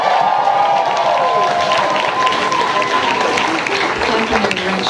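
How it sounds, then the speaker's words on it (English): A concert crowd claps and cheers for a band, loud sustained applause with some whoops, while a held tone from the stage rings underneath. "Let's go ahead and clap for them now."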